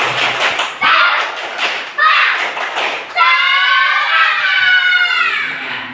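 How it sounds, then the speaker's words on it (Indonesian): A group of people in a classroom coaching session does the rhythmic 'tepuk semangat' spirit clap, loud close bursts of patterned clapping mixed with shouted chanting voices. "Tepuk semangat yang keras."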